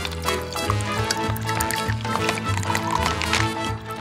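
Juice squeezed from an apple runs and trickles out in a continuous liquid stream, close and moderately loud, with faint voices in the background.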